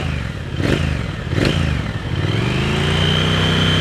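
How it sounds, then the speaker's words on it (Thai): A 2020 Triumph Speed Twin 1200 with its stock exhaust revs close by, giving two sharp throttle blips before settling into a deep, loud, steady rumble. "มาฟังเสียงท่อคันนี้กันหน่อยครับ"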